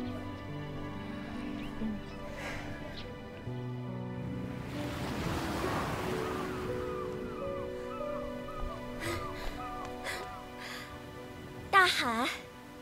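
Sea waves at the shore rise in one soft, drawn-out wash under a gentle music background, fairly distant and moderately quiet.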